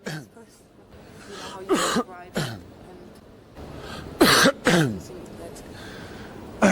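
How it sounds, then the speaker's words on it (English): Several separate coughs and throat clearings from a man with a cough, short broadband bursts spread through the stretch with quiet pauses between them, close and fairly loud. "I've got a cough"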